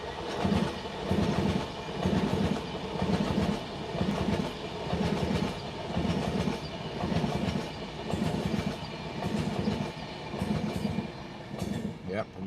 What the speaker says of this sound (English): That is the London Euston to Manchester Piccadilly.